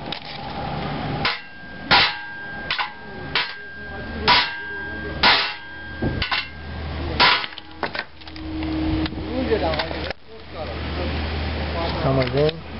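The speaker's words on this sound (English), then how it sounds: "I'll take my hammer and hammer it around" Repeated sharp metallic hammer blows drive an aluminium bushing into a Nissan 240SX, about a dozen irregular close strikes, with speech heard toward the end.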